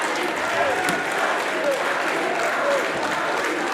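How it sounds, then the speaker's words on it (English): A wrestling crowd at a Chaotic Wrestling event cheers and applauds in a dense, sustained roar, with a commentator talking over the noise. "And this crowd are once again on their feet, cheering for Brad Cashew."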